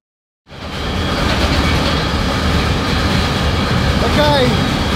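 Inside a freight train rolling between Belgium and Romania, a loud, steady rumble and roar starts abruptly and continues without a break, with a faint metallic squeal rising briefly near the end.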